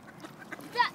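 Ducks at a pond being fed bread, a short nasal quack rising near the end over soft background chatter, close and fairly faint.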